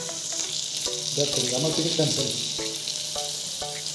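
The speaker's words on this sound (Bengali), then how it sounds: "ভাবলাম ডিম দুটাকে ভাজা করে দিয়ে দিই" Fish roe sizzles and crackles in a hot pan under a steady hiss, while faint tonal clinks and some background murmur come and go.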